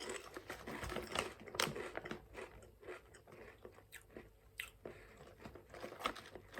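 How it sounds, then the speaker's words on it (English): Close, crisp crunching of Karamucho spicy potato chips being bitten and chewed, irregular crackly bursts repeating throughout, quiet overall with no talk. "you can try this Caramucho spicy chips, and open it. Alright, first taste."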